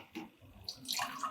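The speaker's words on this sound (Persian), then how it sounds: "اول من میگیرم در داخل گیلاس یک مقدار آب" Water pours into a drinking glass during a simple air pressure experiment, a soft short trickle that rises to a brighter splash near the end, faint and close with no talking.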